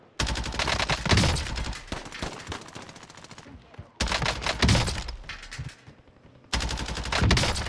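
Bursts of rapid automatic gunfire from a LAPA build in Warzone on Rebirth Island, loud and close, coming in three separate volleys with brief gaps between them.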